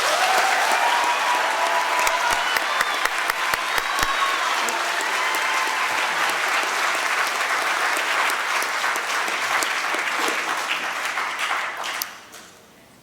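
An audience at a school awards ceremony applauds honored students, steady dense clapping that holds for about twelve seconds and then cuts off quickly.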